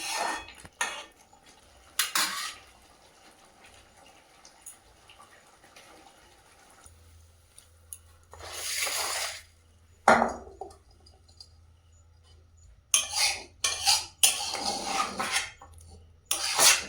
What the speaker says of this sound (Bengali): মুন আর মুনের বাবা খেতে বসে গেছে গরম ভাতে দই চিংড়ি।